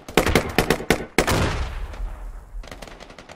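Gunfire and grenade shelling in a tactical shooter match on the Logar map: a rapid string of loud sharp shots, then a heavier blast with a rolling decay and a few more distant pops.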